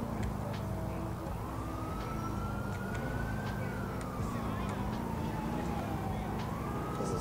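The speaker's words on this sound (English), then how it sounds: "Siren." A police siren wails steadily over a low engine rumble in the video game LCPDFR, its pitch slowly rising and falling in long sweeps.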